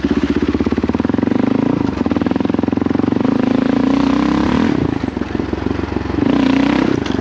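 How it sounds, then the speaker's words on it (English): A Kawasaki KLR650 single-cylinder motorcycle climbs a hill in second gear, its loud, close, rapid thumping exhaust pulsing steadily, with the pitch rising and dipping as the throttle is opened and eased. "That was second gear and it pulled up like nothing."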